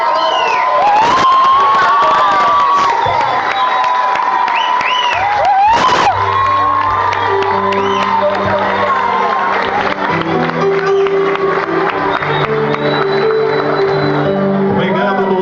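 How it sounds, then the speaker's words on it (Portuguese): Graduates applaud and cheer their teachers at a law school graduation dinner, a loud sustained roar of clapping, whoops and crowd voices filling a large room, with music starting underneath partway through. "gostaria de convidar a todos os formandos aqui presentes para que desse uma salva de palmas para os nossos mestres"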